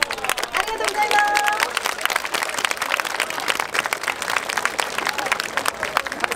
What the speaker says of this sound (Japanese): 皆さんもう一度大きな拍手をお願いいたします